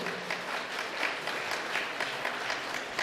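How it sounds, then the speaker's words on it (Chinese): A church congregation applauds to welcome its returning founding pastor during a Sunday service, a steady, moderately distant wash of clapping from a large crowd. "用热烈的掌声来欢迎伊"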